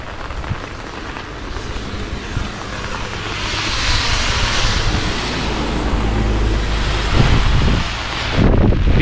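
Strong storm wind gusts through a Japanese village street during a rainstorm, a continuous loud roar of buffeting rush and rain that swells midway and surges again near the end.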